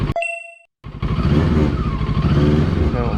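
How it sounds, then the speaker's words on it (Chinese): A JEDI K750 motorcycle is shifted into first gear and pulls away: a few short electronic beeps, a brief silence, then a loud, close engine note rising as the bike accelerates. "我们挂档，1档下去"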